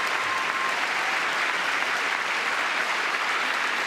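Steady, dense applause from a large audience at the State of the Union, a continuous wash of clapping that stays loud and even throughout with no talk over it.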